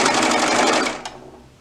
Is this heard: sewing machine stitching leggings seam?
yes